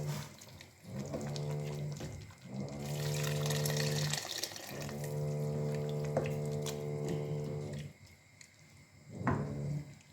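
Water is poured into a pot of borscht in long, steady streams with rising tonal gurgles, pausing between pours and finishing with a short final splash, close and fairly loud with no talking.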